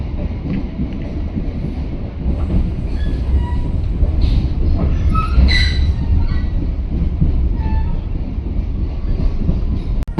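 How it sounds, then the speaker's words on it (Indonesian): A KA Motis train rumbles along with rattling wheels and occasional faint squeals, a steady loud rolling noise heard from on board as it approaches Pasar Senen terminal station in Jakarta. "Sesaat lagi kereta api Motis akan tiba di stasiun akhir Pasar Senen."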